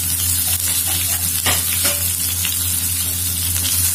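Green chilies and ginger with cumin sautéing in a hot pan, a steady sizzle with stirring scrapes and a few sharper clinks, close and fairly loud throughout.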